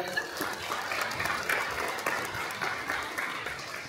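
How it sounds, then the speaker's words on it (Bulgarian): A studio audience at the National Radio applauds the hosts at a Bulgarian journalists' union awards event, giving steady, moderately loud clapping that continues evenly throughout. "Силни аплодисменти за тях."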